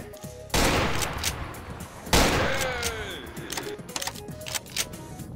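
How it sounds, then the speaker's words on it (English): Gunshots in Garry's Mod DarkRP, two sharp loud blasts a second and a half apart, each followed by a rattling volley of rapid fainter shots and echoing decay, no speech over them. "I'm shooting your baby"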